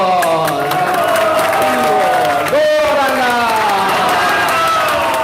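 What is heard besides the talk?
devotees clapping during kirtan, chanting Hari bol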